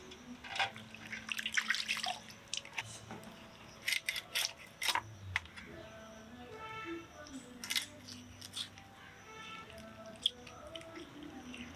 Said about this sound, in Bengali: মেয়ে এখানে গামলার মধ্যে জল এনে রেখেছে একটু ধুয়ে নেবো